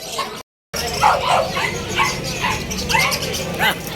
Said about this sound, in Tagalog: nakapaikot sa akin ng mga dogs. Ng mga pets.